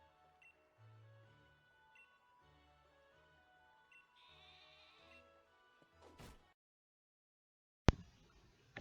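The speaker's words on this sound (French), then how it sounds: "on a croisé un mouton un peu trop teubé" Sheep bleating in Pokémon Shield, a faint game sound amid quiet background music with soft tones, ending in a sudden sharp crash-like burst near the end.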